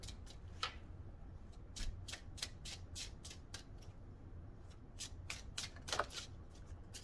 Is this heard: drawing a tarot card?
yes